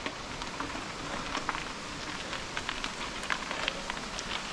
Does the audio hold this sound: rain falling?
yes